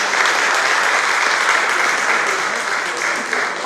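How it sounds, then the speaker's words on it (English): Steady, loud applause from an audience at a Yoruba Day 2018 cultural event in Melbourne, many hands clapping densely and evenly throughout without pause. "a big round of applause"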